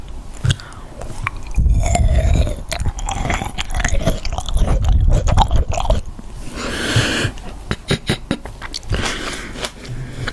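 Grapes are chewed very close to the microphone in a crunchy mukbang, with repeated sharp bites, crunches and wet mastication in an irregular rhythm and brief quiet gaps.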